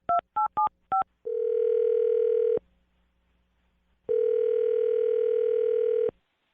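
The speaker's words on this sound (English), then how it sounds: "I'm going to dial his phone number right now" Four quick telephone keypad tones beep in succession, followed by two long steady ringback tones separated by a pause.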